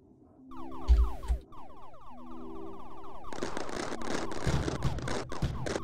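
Fireworks in the video game Mindustry: a burst of rapid descending whistling chirps gives way to a dense, sustained crackling barrage of pops and bangs that keeps going to the end.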